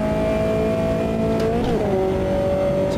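Race car engine in Automobilista 2 droning at steady high revs, with a brief dip and pitch change around the midpoint as it shifts up to fourth gear, then pulling on at a lower pitch; loud and continuous, no talk.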